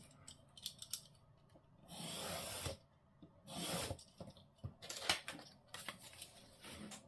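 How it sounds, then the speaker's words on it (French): Scissors cutting off excess material in a papercraft folio, with a series of close, crisp snips and longer rustling cuts in irregular bursts, some louder swishes of paper between them. "je vais déjà couper le surplus"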